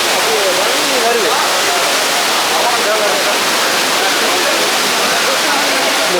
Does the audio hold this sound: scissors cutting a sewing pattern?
no